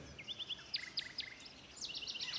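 A bird in the Sonar Islands audio game chirps as it flies past, with rapid, bright chirping phrases in short bursts, fairly quiet and close, with no talking.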